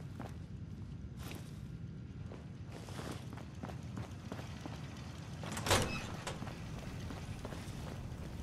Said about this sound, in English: Everything's starting to sound like footsteps these days.